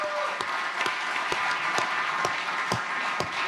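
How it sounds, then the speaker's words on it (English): Audience applause at a radio broadcast with a live guest: steady, dense clapping that fills the whole stretch at moderate level, with no talking over it. "Give yourself a round of applause."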